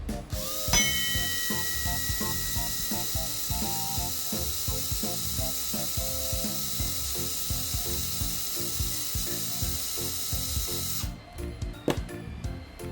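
An electric screwdriver backs a screw out of a pierced Tamiya Mini4wd plastic wheel, a steady whirring drone with rhythmic ratcheting clicks that stops near the end, followed by a few small taps.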